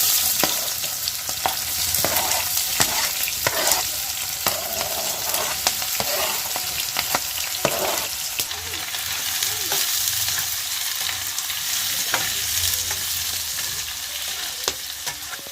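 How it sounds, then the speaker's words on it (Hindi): Chopped onions frying in a pan for brinjal yakhni, a dense steady sizzle with occasional stirring scrapes and clatters, close and loud throughout, no voices. "अब हम ये ऑनियंस फ्राई करेंगे।"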